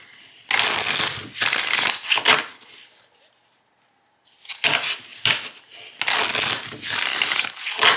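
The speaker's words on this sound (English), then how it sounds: "this cardstock because this shuffles beautifully" Tarot-style oracle cards riffle-shuffled in quick, crisp bursts, a rapid flutter of cardstock, a short quiet pause, then more shuffling close to the ear.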